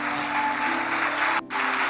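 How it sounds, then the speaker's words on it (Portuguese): A church congregation claps together in a dense, sustained burst of applause that drops for a brief moment near the end and then carries on. "Pode aplaudir o Senhor Jesus."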